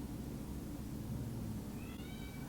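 Sabrina the cat meows and cries in a short rising call near the end, faint and a little distant over steady low background noise, with no talking.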